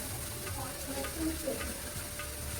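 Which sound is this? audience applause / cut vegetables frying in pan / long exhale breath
cut vegetables frying in pan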